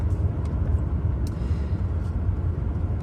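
A car engine runs close by with a steady, dense low rumble and a faint higher whine on top; the throttle seems to vary only slightly.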